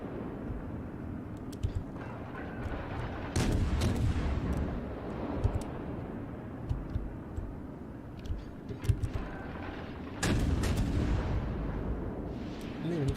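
Low-velocity warship guns booming in World of Warships, with heavy salvos at intervals and a few sharper reports over a steady low engine and sea rumble.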